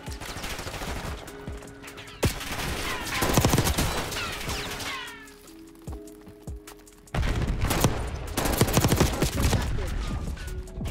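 A sentry gun in Black Ops 6 fires repeated bursts of automatic gunfire, loud and close, with a lull in the middle before a heavy barrage resumes.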